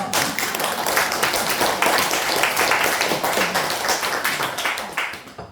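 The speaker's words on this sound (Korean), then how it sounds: "박수 한번 치겠습니다" Steady, dense applause from a church congregation, many hands clapping together at an even loud level for several seconds before tapering off.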